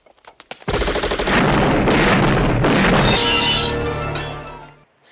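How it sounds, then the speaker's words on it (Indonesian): Loud, sustained bursts of automatic gunfire and overlapping shots fill a film shootout, a dense, continuous barrage after a few scattered cracks, with crashing and shattering mixed in. "Saling tembak pun terjadi."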